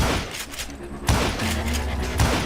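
Gunfire in the western shooter game Call of Juarez Gunslinger: a couple of loud, sharp shots about a second apart, each with a booming tail, over a rumbling game background and a voice.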